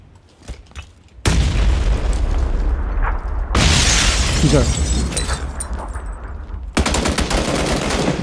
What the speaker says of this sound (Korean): 수류탄 던짐.